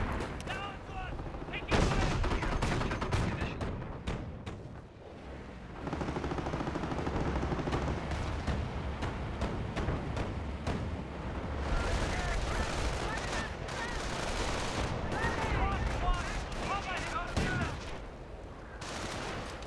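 Nebelwerfer rockets firing in the Company of Heroes battle game, heard as dense, loud bursts of rapid explosive fire and rumbling blasts that continue almost without a break, with a voice talking underneath.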